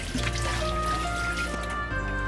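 Pig ears are rinsed under running tap water in a kitchen, a steady close splashing trickle with faint dripping, heard alone without speech.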